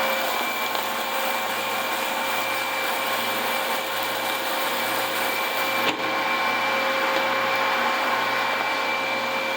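A milking machine washer runs its first rinse cycle to flush out milk residue, a steady close hum and whoosh of running water and motor that stays even throughout with a slight shift near the middle.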